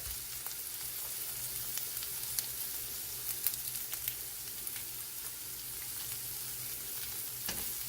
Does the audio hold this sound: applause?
no